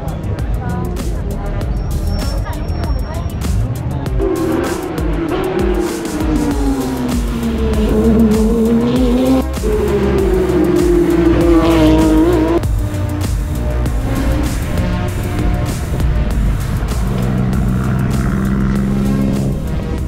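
GT3 race cars, Porsche and Lamborghini among them, tear around a circuit at a time attack event, engines droning and rising in pitch as they pass, loud and continuous beneath crowd babble.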